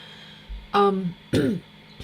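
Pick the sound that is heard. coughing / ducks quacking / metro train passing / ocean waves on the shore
coughing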